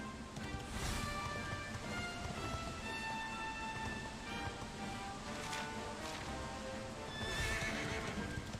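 A horse's hooves clip-clop in a steady gallop with occasional whinnies, faint and even, in the video game Dragon Quest XI, with no voices.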